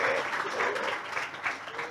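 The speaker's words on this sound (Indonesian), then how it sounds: "Tepuk tangan." A talk-show audience breaks into steady applause, a continuous close wash of many hands clapping that holds for the whole brief moment with no voices.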